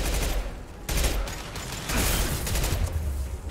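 An impact gun fires in the Mass Effect 2 video game, loud rapid bursts of crackling shots in quick succession over a dense, noisy battle background.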